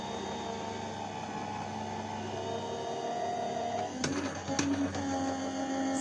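A card rolls back through a crafting die-cutting machine running in reverse, a steady motorized hum and whir with a couple of sharp clicks near the end, heard close with no talking.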